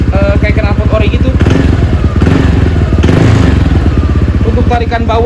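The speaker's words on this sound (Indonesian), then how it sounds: "Super halus ya knalpot dari Proliner Neo SR2." A Kawasaki ZX6R motorcycle with a Proliner Neo SR2 exhaust idles close by with a smooth, even, pulsing burble, and a few throttle blips rise and fall in the middle.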